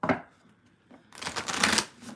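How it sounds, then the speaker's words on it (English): A deck of tarot cards shuffled close up: a brief riffle, a pause, then a longer dense burst of rapid papery flutter, with no talk. "So I'm going to shuffle"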